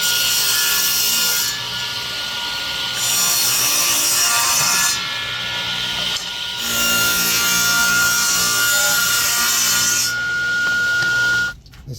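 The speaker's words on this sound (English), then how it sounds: "I'm going to cut it the length of the mortise and see if it fits back together" A hand saw cuts wood for a mortise joint on an early 1800s loom, producing close, steady rasping strokes in long sustained runs with brief pauses between them, and the cut ends abruptly near the finish.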